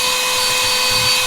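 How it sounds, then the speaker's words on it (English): An Armor All handheld car vacuum cleaner runs with a steady high-pitched motor whine, close and continuous throughout the short stretch, with no talking. "Let's get in here and vacuum the rest of this up."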